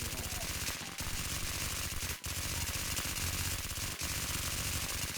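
Rapid, sustained automatic gunfire from charged guns in a shooter video game, dense and loud throughout with brief gaps, while a voice talks faintly underneath.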